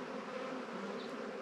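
Honey bees buzz around beehives at close range in a steady, continuous hum that stays even throughout with no voices.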